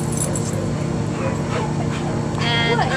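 A young stray dog from Huntington Park whimpers and yips over constant background noise, with a person talking nearby.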